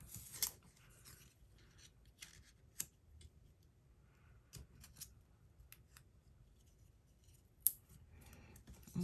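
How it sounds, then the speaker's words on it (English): Scissors snip pieces of dimensional paper for a book-binding craft, giving a few sharp, close cuts spaced irregularly over a quiet background. "so I'm just cutting up some pieces of this dimensional"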